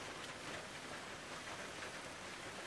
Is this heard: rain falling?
yes